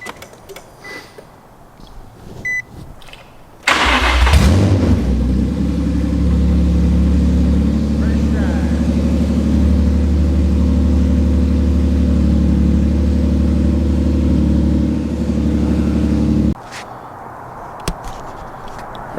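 A G Banger car with a newly installed engine, fitted with custom fabrication, starts up loudly and runs at a steady, droning idle for about thirteen seconds before cutting off, with quieter background sound before and after.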